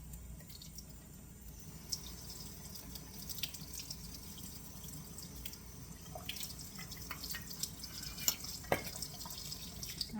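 Cold water running steadily from a kitchen tap, a quiet continuous stream with small splashes and drips, alone with no talk.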